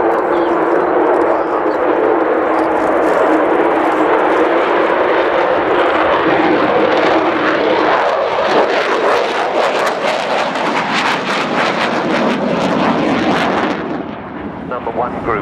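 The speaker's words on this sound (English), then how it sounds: "as Kev brings the Vulcan in along the runway, along the display line, I'm looking to see him accelerate her to about 300 knots" Avro Vulcan B2 XH558 jet bomber making a pass along the runway display line at an air show, a loud, continuous jet roar swelling and rumbling throughout, with broad crackling engine noise before it fades slightly at the end.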